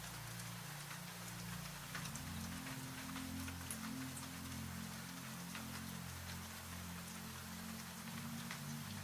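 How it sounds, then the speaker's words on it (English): Soft rain falls steadily beyond a window, a dense patter of drops on glass and surfaces over a low, constant hum, quiet and unbroken throughout. "through the glass, impossibly, rain is falling somewhere else"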